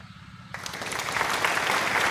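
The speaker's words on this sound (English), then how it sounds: "So can we give Group 4 a thunder applause?" A class breaks into applause for a winning group after a game, the clapping starting abruptly and building into a dense, steady round over a low background hum.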